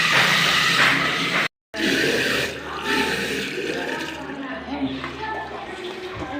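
Water gushes from an outdoor tap into a container at a village spigot during Dashain, a loud rushing hiss that breaks off briefly, then continues more faintly with voices in the background.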